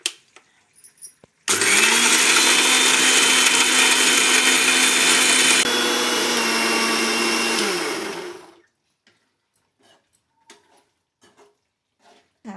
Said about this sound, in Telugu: మిక్సీ పెడుతున్నాం.